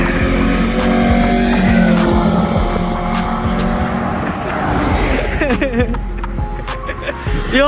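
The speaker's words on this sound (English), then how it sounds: "Yo, the car sounds nice." A car with an upgraded B-series engine drives by nearby, its engine humming steadily with rising tones and some tire noise, while people talk over it.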